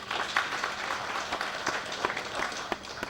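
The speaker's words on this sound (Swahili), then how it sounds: "Umeongea mzuri, mpigieni makofi tena." Applause from an audience at a court-annexed mediation gathering in Embu County, a steady wash of many hands clapping at moderate distance, lasting throughout with scattered louder claps.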